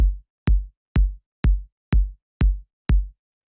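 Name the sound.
short punchy kick drum sample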